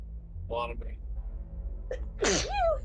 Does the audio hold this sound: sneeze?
yes